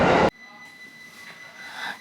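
A train running on the Akita Nairiku line in Japan, heard from on board: a brief loud burst, then a low, steady rolling hum with faint rising whine.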